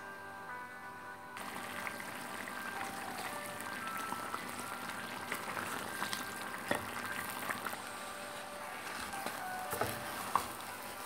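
Semolina and water in a pot on the stove, a steady low bubbling hiss with occasional scrapes and clinks of stirring, close and even, without speech.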